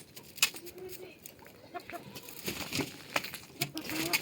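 Chickens cluck in short, scattered bursts around a farmyard, with a few louder squawks and faint background noise.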